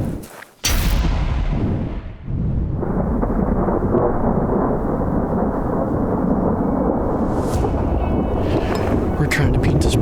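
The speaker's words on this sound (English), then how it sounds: "We're trying to beat this big storm right here." A loud thunderclap cracks at the start of a big storm on a New Mexico elk hunt, followed by a dense, steady roar of wind and rain close to the microphone.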